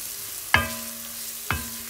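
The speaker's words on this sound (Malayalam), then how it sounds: "ഇറച്ചി masala or normal masala mix അതും കൂടി ഇട്ട് ഇതിനിങ്ങനെ ഇളക്കി എടുക്കാം" Masala mix being stirred in a frying pan: a low steady sizzle with two sharp knocks of the spoon against the metal pan, about a second apart.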